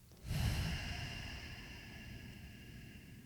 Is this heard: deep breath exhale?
yes